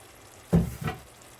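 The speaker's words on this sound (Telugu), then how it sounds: "నెక్స్ట్ అవన్నీ బాగా వేగనివ్వండి." Paneer pieces and grated paneer frying in a pan for a methi curry, with a quiet background sizzle and two quick stirring scrapes close by.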